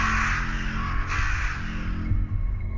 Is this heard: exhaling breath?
no